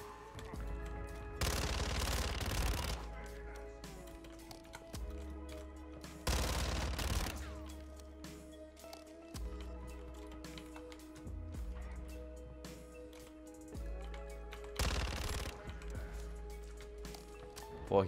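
Bursts of automatic gunfire in Call of Duty: Modern Warfare II, three loud volleys each lasting about a second, separated by quieter stretches of in-game ambience and music.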